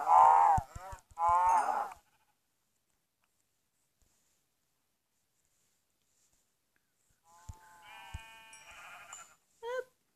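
Sheep bleating in the Minecraft video game, two clear bleats at the start, a long stretch of silence, then further bleats and short blips near the end, alone with no talk.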